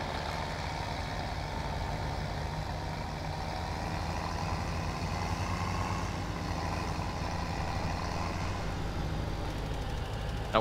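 A tractor engine in the Farming Simulator 17 video game, hitched to a full fertilizer spreader, drones steadily with a low, even rumble that holds for about ten seconds without voices.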